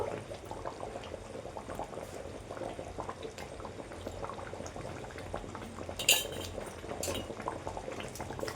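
A pot of water for khichuri bubbles at a low, steady boil, faint and continuous, with a couple of sharp metallic clinks near the end and no speech.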